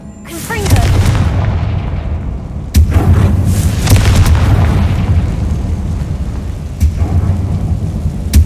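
Repeated booming blasts of the Confringo fire spell in Hogwarts Legacy, loud and close, one sharp hit then several more over a rumbling wash, with a voice calling out now and then.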